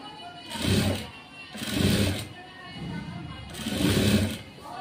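A sewing machine puts a pressed stitch along the folded edge of a cut blouse piece. It runs in three or four short separate bursts, close by, with quieter gaps between.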